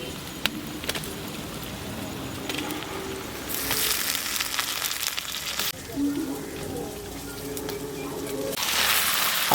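Chicken pieces sizzle and crackle loudly in hot oil with onion and ginger garlic paste, a steady frying hiss that swells in bursts as they hit the pan and are stirred.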